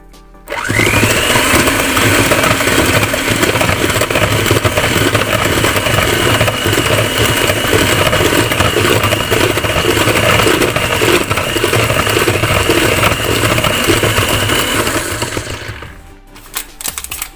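Apple cake batter with flour being mixed by an electric mixer, a loud continuous motor whir with a steady rhythmic churn that runs almost unbroken for about fifteen seconds before cutting off.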